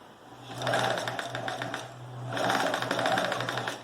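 A sewing machine backstitches along a zipper seam with a fly, running in two steady rhythmic bursts, close and clear, with a brief pause between them.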